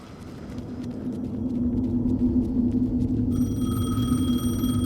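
A telephone rings in the video game Alan Wake 2, its bright electronic ring starting partway through over a low ambient rumble.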